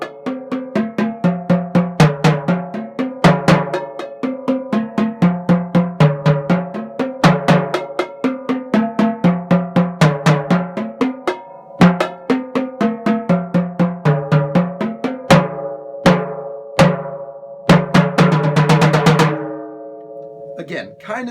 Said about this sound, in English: if you put all the bass drums together, it sounds like that